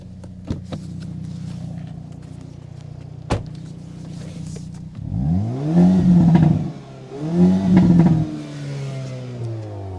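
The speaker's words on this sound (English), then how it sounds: "I want you guys to listen to this amazing exhaust." Exhaust of a 2023 Hyundai Kona N revving nearby, starting from a steady idle rumble and then rising in two strong throttle blips that climb and fall, each followed by a return to idle.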